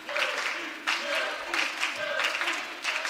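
Crowd at a college volleyball match cheering and chanting in rhythmic surges, loud and continuous with repeated swells, while a commentator talks over it.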